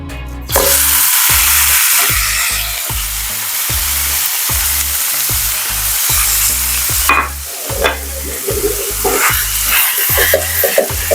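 Ground beef frying in hot olive oil in a skillet, a loud, close, continuous sizzle broken by a steady run of regular knocks and scrapes from a spatula breaking up the meat.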